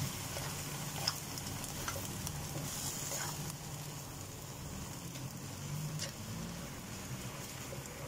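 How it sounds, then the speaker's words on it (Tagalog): Pancit noodles with pepper, seasoning and soy sauce stirred in a pan: a soft continuous sizzle with occasional faint scrapes and ticks of the utensil, fairly quiet and close, with no speech. "Tapos hahaluin natin"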